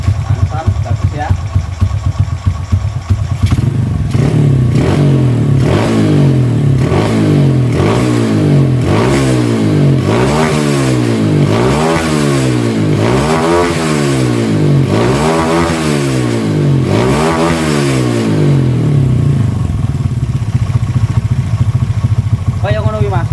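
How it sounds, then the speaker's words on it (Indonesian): A Honda Astrea Grand motorcycle fitted with a Jupiter CDI ignition idles and then is revved hard again and again in a steady rising-and-falling pattern, loud and close, before settling back to idle. "Langsungnya ntar kita geber-geber dulu."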